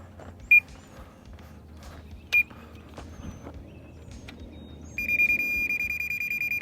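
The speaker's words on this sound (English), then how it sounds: "whenever that steady beep, that means it's on grade, real close" A laser grade receiver on a construction leveling job gives two short chirps, then a continuous steady beep when it sits on grade, clear and fairly loud over low outdoor rumble.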